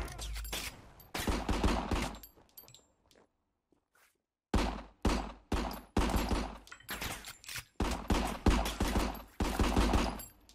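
Gunfire from the RICO video game: repeated dense bursts of rapid shots, loud and close, broken by a brief near-silent pause before the firing resumes in several more volleys.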